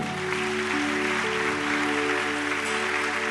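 A church congregation claps together during an evening service, a dense, continuous wash of applause over sustained organ or keyboard tones, steady and fairly loud throughout with no one speaking.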